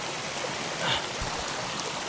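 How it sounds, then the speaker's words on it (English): A small creek near Garibaldi Lake flows in a continuous broadband rush, close and steady, with no voices over it. "there's a nice little creek here"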